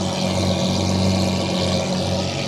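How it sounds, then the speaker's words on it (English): A Lamborghini Aventador SVJ with a modified exhaust idles steadily, rumbling with a low, throbbing exhaust burble, continuous and fairly close, with no talking. "just listen to idling on this SVJ with the ripped exhaust"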